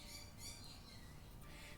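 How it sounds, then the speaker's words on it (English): A bird squawks in harsh, repeated bursts, fairly close, with no talking. "my bird started squawking really loud"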